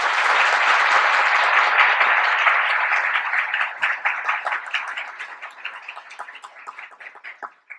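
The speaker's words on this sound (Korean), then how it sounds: "다 같이 박수 부탁드립니다." Audience applause at a university research lecture: a full, loud burst of clapping that gradually thins into scattered individual claps before dying out.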